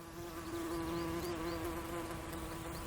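Flies buzz close by in a Namaqualand garden, a steady droning hum with small pitch swoops as they move around the flowers.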